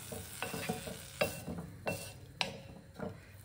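Semiya payasam being stirred in a pan as it cooks, a spoon scraping in a slow repeated rhythm of soft knocks over a faint bubbling sizzle, close and fairly quiet.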